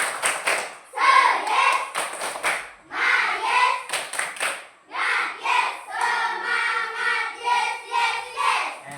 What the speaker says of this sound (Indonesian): Yang pertama, tepuk semangat yes.